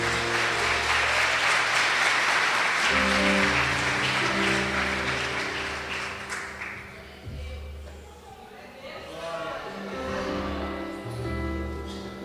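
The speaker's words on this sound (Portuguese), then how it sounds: "Vamos aplaudir o Senhor" A church congregation claps together in a loud, sustained ovation, with organ or keyboard chords sounding underneath before the applause slowly thins out.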